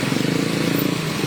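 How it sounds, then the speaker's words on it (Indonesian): A motorcycle passes on a road near a police checkpoint at a turnaround on the route to Anyer, its buzzing engine close and steady for a moment under broadband traffic noise. "Motor lewat."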